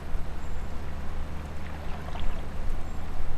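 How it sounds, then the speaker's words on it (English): Water flows gently in Farming Simulator 19 beside a farmyard area, a soft continuous wash and trickle at low level with no talk. "I heard water. I didn't see water."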